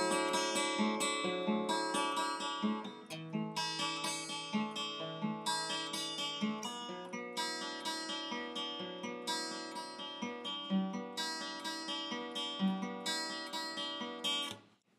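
Fingerpicked acoustic guitar plays the intro of a song: bright, ringing arpeggiated chords moving through changes in a steady rhythm, played solo and close, fading out at the end.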